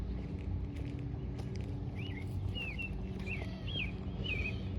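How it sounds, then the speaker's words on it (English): A bird chirps outdoors in a run of short, rising calls in the back half, over a steady low rumble of passing cars. "This bird chirping"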